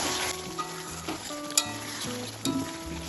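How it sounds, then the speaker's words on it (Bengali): A vegetarian doi potol curry of pointed gourd in yogurt gravy is stirred in a pan, giving a steady soft sizzle with a few light scrapes and clicks of the spoon, close by with no talking. "আমি এবার ঢাকাটা খুলে নিলাম, একবার একটু নেড়ে দেবো।"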